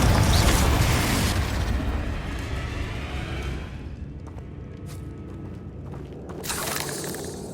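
Confringo, the blasting spell in the Hogwarts Legacy video game, lands with a loud, close booming burst that rumbles and fades over a few seconds, then a smaller crackling swell follows near the end.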